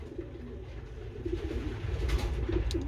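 Soft, low coos of breeding pigeons in a nest box repeat close by, a steady murmuring over a faint background rustle, with no talking.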